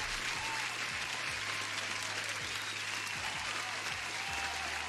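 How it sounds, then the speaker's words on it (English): Steady applause during a live daytrading stream, an even, continuous clapping texture over a low electrical hum, lasting the whole stretch without pause. "Huge applause."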